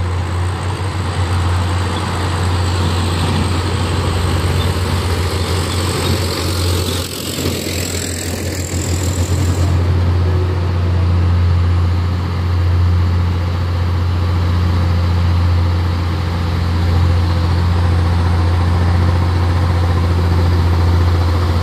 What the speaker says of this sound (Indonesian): ini satu unit truk Hino GT mengambil jalur kanan ya